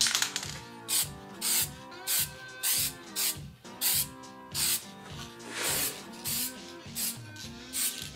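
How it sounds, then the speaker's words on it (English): Varathane clear gloss finish sprayed in repeated short bursts from an aerosol can, a dozen or so hissy puffs in a steady rhythm, close and fairly loud. "going to give this a few light coats of this Varathane clear finish"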